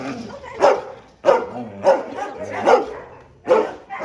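Dogs at an animal shelter with many enclosures in Montpellier bark in several loud, separate bursts close by, about five barks with short pauses between them and no talk over them.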